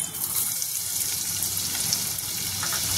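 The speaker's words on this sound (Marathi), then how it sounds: "आणि कांदा भाजून घ्यायचा चांगला" Chopped onion frying with two bay leaves in a couple of spoons of oil, a steady broadband sizzle that holds close and even throughout with no talk.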